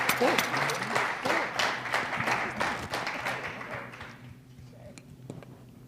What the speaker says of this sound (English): keep clapping for the incredible Alfred Fornay